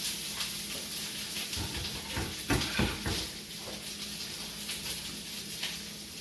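Butter sizzling and browning in a hot pan, a steady crackling hiss with brief louder pops, no talk over it.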